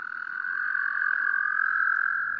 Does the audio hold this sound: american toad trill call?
yes